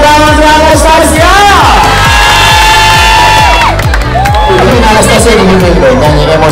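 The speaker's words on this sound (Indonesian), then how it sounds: "tepuk tangan untuk Anastasia." A school crowd at a Persebaya football club visit claps and cheers loudly and continuously, with shouting children and a musical, tonal backdrop filling the space.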